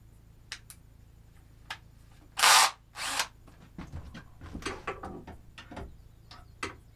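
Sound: power drill with drill extension

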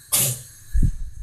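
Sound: sneeze

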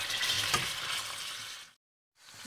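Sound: pork knuckles searing in hot olive oil in a pot

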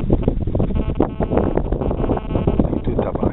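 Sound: wind blowing at the beach

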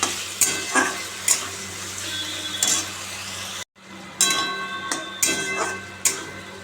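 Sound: sautéing spices in a pan for egg curry

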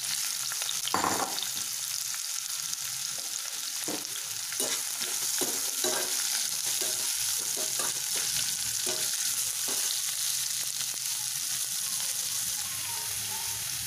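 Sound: chopped onions sautéing in a pan for chutney

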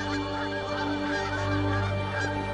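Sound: geese honking

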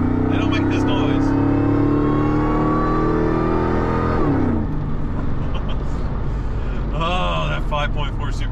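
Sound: Ford Lightning 5.4 supercharged V8 engine revving, side pipes

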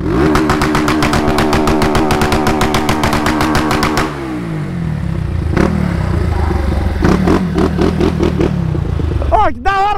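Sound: Honda Fan 160 motorcycle accelerating

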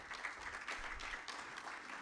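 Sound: audience applause

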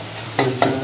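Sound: masala being stir-fried in a pan

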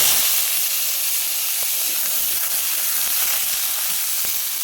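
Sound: radish added to hot oil with panch phoron, sizzling

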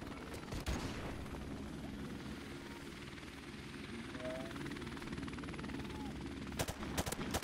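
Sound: gunfire from Call of Duty: Modern Warfare Remastered video game

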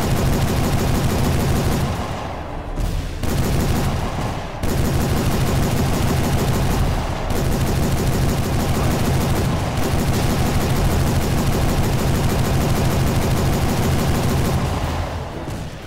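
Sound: Gatling gun firing in the video game Civil War: Secret Missions

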